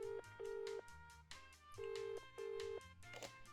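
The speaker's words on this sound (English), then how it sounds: "Please wait 1 second while I phone my boss." A telephone in a video game rings in repeated electronic bursts, steady tones cut by short gaps, with game music running underneath and no talking.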